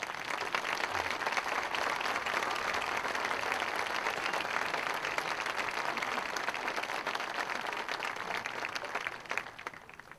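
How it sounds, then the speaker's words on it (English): A graduation ceremony audience applauds the Missouri Valley College faculty with sustained, dense clapping that stays even for about ten seconds, with no talk over it. "Let's give them a round of applause"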